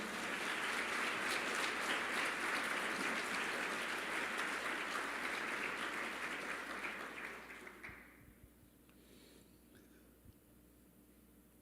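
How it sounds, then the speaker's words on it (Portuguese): A church congregation applauds in a steady wash of clapping that carries on for several seconds, then fades out abruptly into near silence with faint room tone. "aplaude o nome de Jesus"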